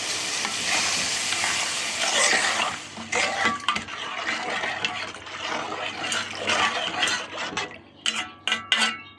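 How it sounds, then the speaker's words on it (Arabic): Water splashed into a hot pan of lentils and rice being stirred for Egyptian koshari, a loud steady sizzle that bursts and crackles as it hits, with scraping stirs and clinks of a utensil against the pot toward the end. "وهطشه بالميه اهو"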